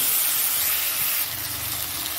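Spices sizzle and hiss steadily in a hot pan while masala is fried down for a small-fish curry with tomato, sugar, chilli powder, cumin, coriander and ginger-garlic paste; the sound is loud, broadband and continuous.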